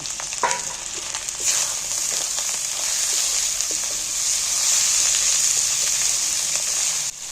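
Chopped tomatoes hiss and sizzle steadily in a pan of frying spices and goat fat for a jackfruit curry, a loud continuous fry with scattered crackles and a few stirring scrapes throughout, and no voices.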